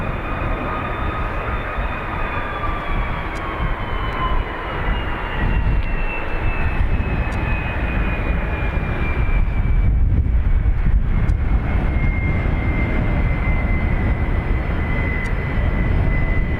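A jet airliner departing from Dublin Airport's north runway roars loudly and steadily for the whole stretch, a broad engine rumble with a whining tone that slowly falls in pitch.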